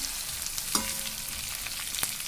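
Eggplant frying in a pan, giving a soft, steady sizzle with a couple of light clicks from a utensil, fairly quiet and close.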